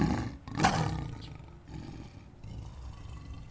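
A lioness gives a single loud roar up close, a short powerful burst that fades into low rumbling breaths and quiet ambience.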